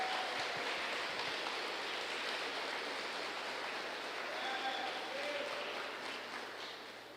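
Church congregation applauding during a sermon, a dense, sustained wash of many hands clapping at once, even and continuous, heard from within the room and tapering slightly at the end.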